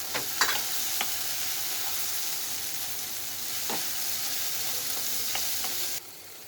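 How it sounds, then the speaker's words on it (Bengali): A mixture with turmeric fries in a pan for stuffed pointed gourd chops, a close, steady sizzle with a few sharp spatula clicks and scrapes, then dropping quieter at the end. "সামান্য একটু হলুদের গুঁড়ে দিচ্ছে দিয়ে এটা আবার ভালোভাবে একটু ভেজে নিচ্ছে"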